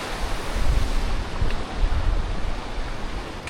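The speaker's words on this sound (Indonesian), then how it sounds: "Jujur anginnya udah kacau nih," Strong, cold wind buffets the microphone at Annapurna Base Camp in Nepal, a loud, roaring rush that swells and eases without pause.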